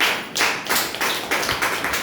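An audience at a talk bursts into applause on cue, a dense run of claps in repeated bursts that stays loud and close for the full stretch, with no voices heard over it.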